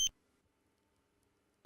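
A Dräger X-am 2500 gas detector sounds its alarm in two short, sharp bursts of beeping, one at the start and one at the end, with near silence between.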